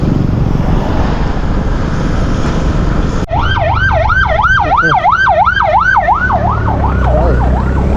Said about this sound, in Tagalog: Ay, ambulansya yun.